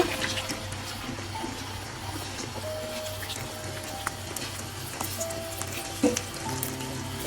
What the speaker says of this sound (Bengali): তেলটা গরম হয়ে গেছে এখন আমি গুলিয়ে রাখা ডিমগুলো দিয়ে দিব